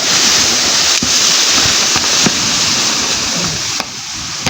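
River water rushing along a lower stretch of river, a loud, continuous broadband roar close to the microphone with only slight dips in level and no talking.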